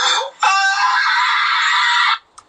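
A person lets out one loud, sustained high-pitched scream lasting nearly two seconds, preceded by a short shriek, with no other sounds around it.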